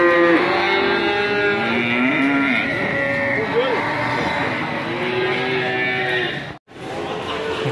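Cattle at a livestock market in Ambarketawang, lowing in long, drawn-out moos close by, one call following another over a busy market background, with people talking nearby.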